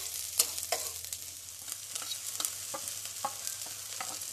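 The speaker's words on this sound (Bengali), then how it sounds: "শুকনো লঙ্কাটা ভাজা হয়ে গেলে দেব পেঁয়াজ কুচি। ওটা ভালোভাবে নেড়ে নেব যতক্ষণ একটু ব্রাউন কালার আসে।" Chopped onions and dried red chillies fry in hot mustard oil, giving a steady close sizzle broken by repeated scraping stirs of a utensil in the pan. No one speaks.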